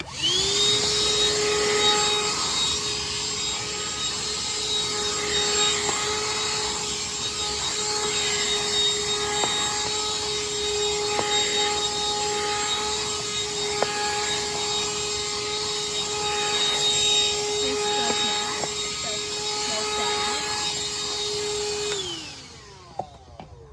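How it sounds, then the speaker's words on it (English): A Black & Decker Wet and Dry Dustbuster handheld vacuum runs close by with a steady, loud, high-pitched motor whine and airy rush for over twenty seconds, then winds down and stops, followed by a couple of faint clicks. "Next up is my Black & Decker Wet and Dry Dustbuster."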